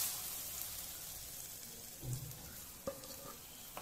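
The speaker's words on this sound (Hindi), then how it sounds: "अब हम डालेंगे बीट किया हुआ एग" Beaten egg is poured into paneer bhurji cooking in a pan over a high flame, giving a faint, steady hiss with a few soft clinks and scrapes of stirring.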